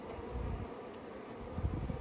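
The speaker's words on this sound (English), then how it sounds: "there's not very many bees left in here, so I think we can let them try to shake the rest of them out" Honey bees buzzing inside a wooden package box during installation, a low steady droning hum, moderately close and fairly quiet, with a few louder rustling bursts near the end.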